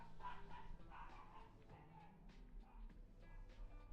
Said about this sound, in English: Don't mind my dogs barking in the background